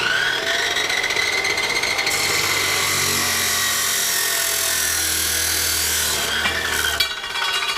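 Wooden board cut to length with a power saw, a loud, close, continuous whining rasp that rises sharply partway through and then cuts off abruptly near the end, with no talk.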